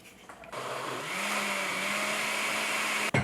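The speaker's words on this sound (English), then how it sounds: "I like to blend it when it's at this state before I add the strawberries." Almond milk smoothie with spinach whirring in a countertop blender, a steady loud motor whine that starts abruptly, rises slightly in pitch as it settles, and then cuts off.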